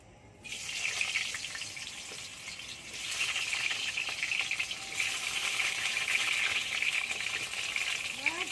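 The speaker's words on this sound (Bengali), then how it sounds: "আমি আলুটা ভেজে নেব।" Potatoes frying in hot oil in a kadai, a steady loud sizzle that starts abruptly as they go in and keeps crackling evenly throughout, with no talking.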